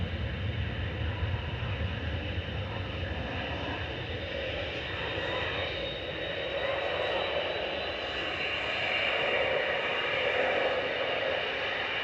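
A Saudia airliner at Manchester Airport roars steadily at a distance, a broad continuous jet rumble and hiss that swells slightly toward the end, with faint talk beneath it.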